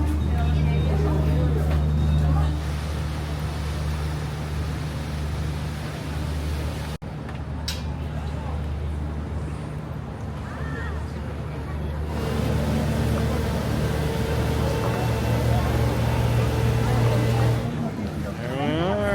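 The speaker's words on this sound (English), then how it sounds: "There we are, cruising along down the Seine." A tour boat cruises along the Seine River in Paris, its steady low engine drone and water rush continuous and fairly loud, with voices talking over it throughout.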